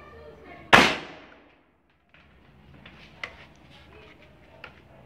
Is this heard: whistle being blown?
no